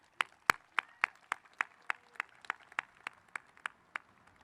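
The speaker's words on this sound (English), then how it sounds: "let's give them another round of applause." Audience applause at a commencement ceremony comes as a series of distinct claps at a fairly regular rhythm, roughly a dozen sharp hits, sounding somewhat distant and moderately quiet against a still background.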